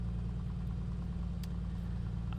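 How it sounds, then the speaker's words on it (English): Light aircraft engine idling in Microsoft Flight Simulator 2020, a steady, loud low drone with a regular throbbing pulse and one brief high click partway through. "We'll leave the engine sounds on for now."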